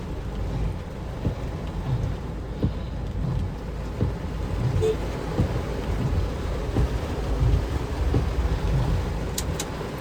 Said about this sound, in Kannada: ಮಳೆ ಬರ್ತಾನೆ ಐತೆ